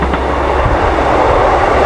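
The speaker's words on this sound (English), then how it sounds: "Sorry about the train." A train rumbles past close by near the River Trent, a loud, steady rolling roar with low wheel noise throughout, set against an outdoor riverside fishing spot.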